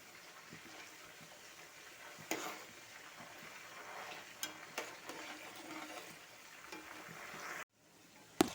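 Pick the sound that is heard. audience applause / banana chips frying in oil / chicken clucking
banana chips frying in oil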